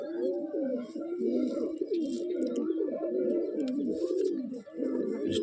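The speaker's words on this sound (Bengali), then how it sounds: "তোমাদেরকে দেখাচ্ছি পায়রাগুলো।" Giribaz pigeons coo in repeated, rolling low calls, close and continuous, with a few faint chirps and background sounds mixed in.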